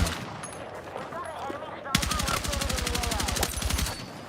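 AK 205 rifle in Battlefield 6 firing a fast automatic burst of about two seconds, loud and rhythmic, preceded by quieter background game noise and faint chatter.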